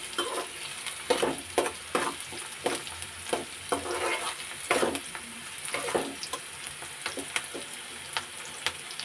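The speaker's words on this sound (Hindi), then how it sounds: "इनको फ्राई करते हुए फ्रेंड्स" Aloo patties frying in oil in a pan, a steady close sizzle with repeated scraping stirs and spatula strokes at an uneven rhythm throughout, no voices.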